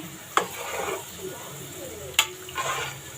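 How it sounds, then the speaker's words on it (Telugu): Rice being stirred into boiling spinach water in a cooking pot for spinach pulao: two sharp utensil scrapes against the pot over a bubbling, hissing simmer, close by. "బియ్యం వేసేసుకుని ఒకసారి బాగా కలిపేసుకుందాము."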